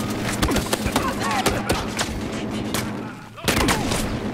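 Rapid gunfire in the Battlefield Hardline video game: dense bursts of shots crackle throughout, loud and close, with a sharp renewed volley near the end.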